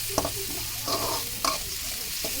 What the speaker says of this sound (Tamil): நல்லா கிளறி விடணும், வதக்கணும். எண்ணெயில் நல்லா வதங்கணும்.